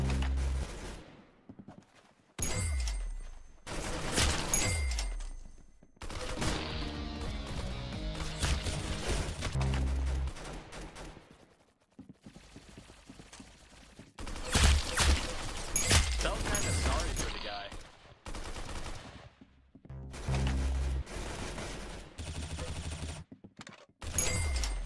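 Bursts of automatic and single-shot gunfire from a shooter match in the Roblox game Arsenal, coming in loud clusters separated by short silent gaps, with music or game effects between volleys.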